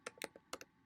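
Quick burst of keystrokes on a computer keyboard while text is typed into a thumbnail design, five or six close, crisp clicks in an uneven rhythm with no voice.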